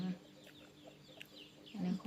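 Chickens cluck softly and sporadically at a distance, with faint background noise and a low voice in the mix.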